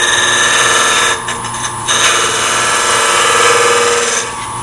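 A scraper cuts wood inside a segmented vessel spinning on a lathe, a loud continuous whirring hum with a rough scraping edge that dips briefly near the middle and again at the end.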